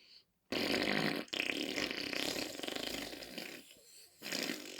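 A voice imitates a wet fart, producing a long slobbery, buzzing squelch with a brief break, fairly loud and close, then trailing off before a final burst.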